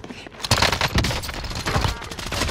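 Heavy automatic gunfire in the shooter game Call of Duty Warzone rattles in loud, dense bursts for the whole stretch, with a raised voice partly buried underneath.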